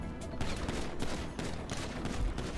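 Rapid, dense pistol gunfire from the GTA V adversary mode, a continuous barrage of overlapping shots loud throughout, with no voices.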